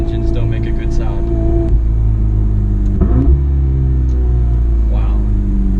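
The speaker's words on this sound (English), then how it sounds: "who said turbocharged engines don't make a good sound?" Turbocharged engine of a Ferrari 488 Spider accelerating, a steady, loud, low rumble that holds throughout with a brief surge near the middle.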